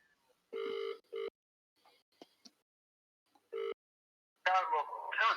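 Phone ringing while trying to reach a friend during a live stream: three loud, evenly spaced ring bursts separated by pauses, with faint clicks between and a voice starting up at the end.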